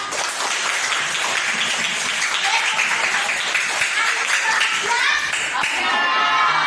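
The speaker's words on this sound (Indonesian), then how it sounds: "tepuk tangan buat kalian semua anak-anak hebat" Classroom of children clapping hands together in a dense, steady burst of applause that fills the whole stretch, with voices mixed in underneath.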